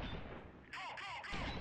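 Gunfire in the video game Freeman: Guerrilla Warfare, a dense, continuous burst of shots with rumbling blasts, loud and close, running through the whole short stretch with game effects layered on top.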